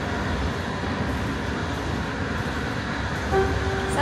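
A passenger train runs at night with few riders aboard, a steady, even rumble of wheels and carriage noise filling the space throughout, with a brief high tone near the end.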